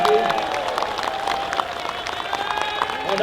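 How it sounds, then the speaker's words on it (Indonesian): Applause from an assembled crowd at a military and Ansor troop parade ceremony in East Java, steady dense clapping held at an even level throughout, with no speech on top. "Tepuk tangan sekali lagi yang meriah untuk beliau semua."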